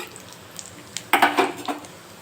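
Roasting ingredients are stirred in a pan, giving a few light metallic scrapes and clinks of a utensil against the pan, with a brief cluster of louder scraping in the second half.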